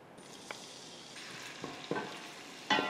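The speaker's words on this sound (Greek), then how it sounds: "Βάζω στην κατσαρόλα μου το λάδι και σοτάρω το ξερό κρεμμύδι για 4-5 λεπτά." Onion sautéing in oil in a pot for a cabbage gratin gives a steady soft sizzle, broken by a few brief scraping stirs and clatters.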